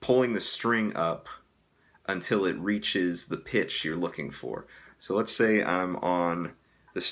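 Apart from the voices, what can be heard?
None of the usual background noises is heard.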